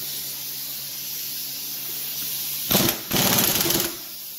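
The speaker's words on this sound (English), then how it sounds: "I'm going to use a torque-limiting impact stick for this." Two quick bursts of a torque-limiting impact stick tightening the flywheel nut on a Kawasaki JS 440 jet ski engine, a brief rattle and then a longer buzzing hammer over a steady hissy background.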